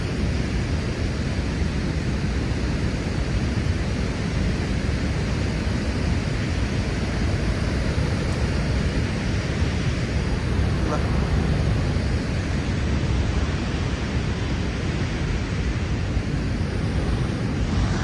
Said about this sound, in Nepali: अनि यही हो मेन नायग्रा फल नजिक छ